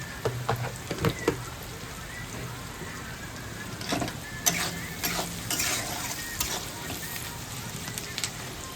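Chicken sizzles and crackles in a hot pan, with occasional scraping stirs and clatters; a voice can be heard faintly at moments.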